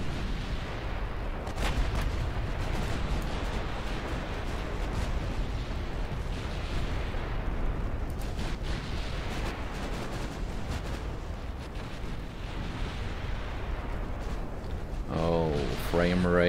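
Warship guns boom in the Ultimate Admiral Dreadnoughts naval game, the 1900 British campaign, as a dense, continuous rumble of distant heavy firing with scattered sharper reports throughout.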